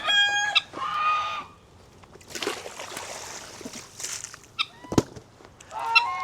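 Geese honk loudly and in bursts as a guinea fowl attacks them on a ranch, with clucking fowl calls, scuffling and a sharp cry mixed in, close by and outdoors.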